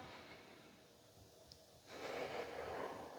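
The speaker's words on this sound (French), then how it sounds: "Respirez encore 2 profondes respirations." Deep breathing during a standing leg-strengthening exercise, a faint quiet inhale followed by a fuller, breathy exhale through the nose and mouth, close and soft with no talking.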